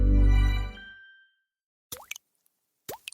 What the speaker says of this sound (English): That's the sound of unaged whiskey transforming into Jack Daniel's Tennessee whiskey